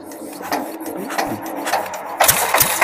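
A loud diesel engine with no silencer is turned over by a hand crank, its clutch is dropped, and it catches. Irregular chugs and knocks build into a louder, faster rhythmic thumping, close up.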